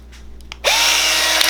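Battery-powered pipe expansion tool on a nearly flat battery, motor starting with a rising whine then running steadily and close, sluggish in tone.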